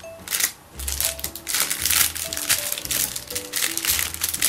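Packaging of a Yamaha P-32 pianika being opened up close: steady crinkling, crumpling and rustling of wrapping and box material, with sharp crackly bursts throughout and no talking.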